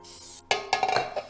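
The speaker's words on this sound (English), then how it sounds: "now we're gonna take our bundt pan here and spray it." Cooking spray hisses into a bundt pan in a kitchen, a short burst of spraying, then a few quick puffs and light metallic clinks, close and fairly quiet with no talk.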